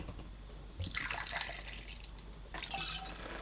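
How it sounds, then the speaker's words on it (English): Liquid pours out of a vase in two short splashing bursts with trickling between them, close and fairly quiet, with no voices. "One is bound to overpour when one has to pour out of a vase."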